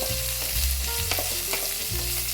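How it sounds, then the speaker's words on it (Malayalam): Shallots, curry leaves and crushed coconut frying in hot oil, a dense continuous sizzle with brief stirring scrapes, close and alone with no voices. "ഉള്ളി നല്ലോണം ഒന്ന് മൂത്ത് വരുമ്പോൾ നമ്മൾ ചതച്ച് വെച്ചേക്കുന്ന തേങ്ങയും കൂടെ ഇടാം"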